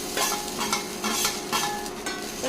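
Grated coconut stirred into a vegetable salna in a hot pan, with a spoon scraping through in about six rhythmic strokes over a steady frying sizzle, close up, with no talking.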